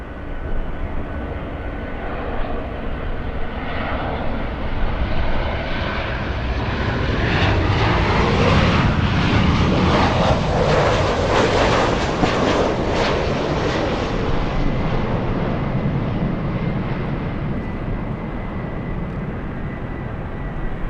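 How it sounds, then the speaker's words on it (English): A Boeing 787 arriving from Heathrow passes overhead on approach to LAX, its jet roar swelling from a distant hum to a loud broadband peak and then slowly fading, with no talking. "And here comes the 787 from Heathrow."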